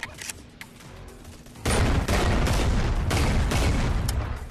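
Shotgun fire in a video game: quiet scattered clicks, then a sudden loud blast that opens into sustained dense gunfire and rumbling booms for the remaining seconds, no talking.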